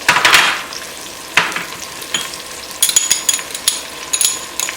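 Cumin seeds, coriander seeds and other spices frying in a pan for bhagaray baingan crackle and sizzle loudly, with a sharp burst at the start and then repeated spattering pops and stirring scrapes, no voices.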